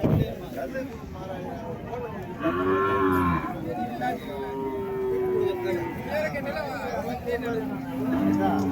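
Cattle moo in long, low calls, several animals in turn, over a steady background of crowd chatter and outdoor noise at the Uthangarai cattle market in Tamil Nadu.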